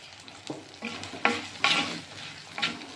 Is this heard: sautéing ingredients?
yes